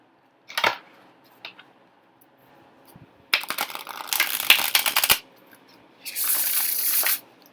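A few soft card flicks, then a long crackling riffle of a new tarot deck being shuffled, followed by a shorter whooshing bridge-shuffle burst.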